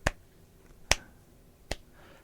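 Three crisp, isolated hand claps ring out close and fairly loud, spaced under a second apart over a quiet room during a tabletop role-playing game session.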